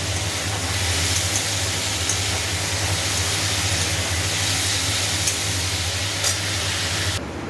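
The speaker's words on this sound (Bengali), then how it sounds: "আর এইদিকে আলু মোটামুটি ভাজা হচ্ছে" Potatoes frying in a pan on a home stove, a steady soft sizzle with a low hum underneath, continuous and unbroken until it cuts off near the end.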